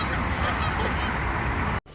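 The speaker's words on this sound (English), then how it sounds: "Do you ever just look over and just see a goose?" Geese honking through the night beside a parked van near the Capitol Building in Washington D.C., a dense, steady chorus of calls filling the air before cutting out abruptly near the end.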